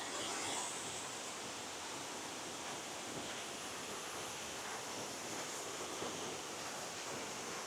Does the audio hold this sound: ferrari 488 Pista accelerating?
no